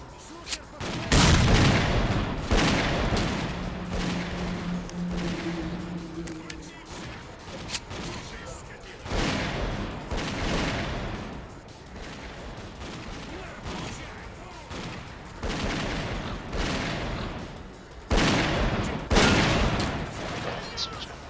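Gunfire in the STALKER Clear Sky shooter game, loud overlapping bursts and booms in clusters with a dense battle din, while someone talks over parts of it.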